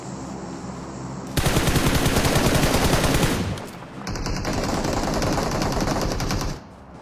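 Rapid automatic rifle fire from an MK14 in a battle royale shooter rings out in two long loud bursts, each a dense run of shots, with a short pause between them and no talk over it.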